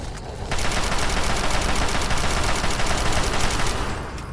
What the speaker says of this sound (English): Let me just, pull out my Chinese assault rifle.